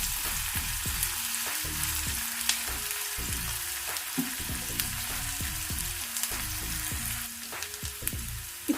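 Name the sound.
onions frying in a pan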